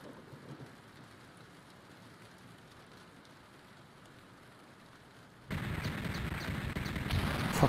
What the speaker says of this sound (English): We need to relax with some thunder and rain.